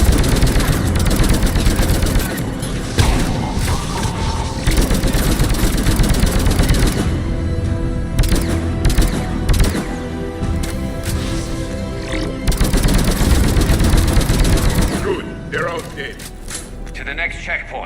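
Turret gunfire in the sci-fi shooter Mass Effect 3 on PC: dense, loud bursts of rapid automatic fire and booming impacts pound almost without pause, mixed with game music and voices talking over the action.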